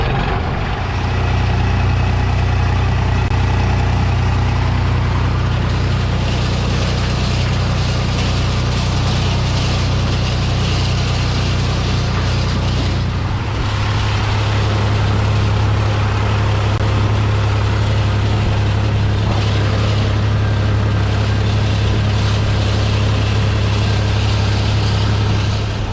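A tractor engine idles steadily with a hay baler hooked up, a loud continuous low diesel rumble that shifts pitch slightly partway through, with no talking.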